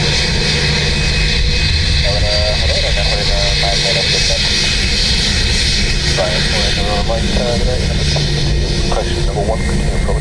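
A Ryanair jet roars loudly and continuously as it lands on runway 28 left at Dublin Airport, with radio chatter and engine tones running over the steady noise.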